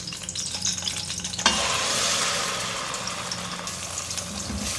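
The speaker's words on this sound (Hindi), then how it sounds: "प्याज की इतनी भुनाई करनी है इसका कलर चेंज हो जाए" Blended onion frying in a pan for Chandan kofta curry, a steady loud sizzle that surges sharply partway through and then holds, with stirring scrapes running underneath.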